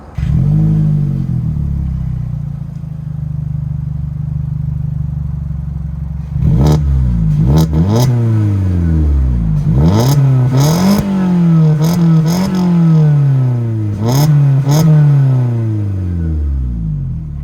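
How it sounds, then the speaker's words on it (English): A car with a new R32-style exhaust rumbles at a steady idle, then gives a string of sharp blips that rise and fall, about seven revs in a row, loud and close, with no talking. "So I'm gonna give you guys a little start up and a few revs of the new exhaust."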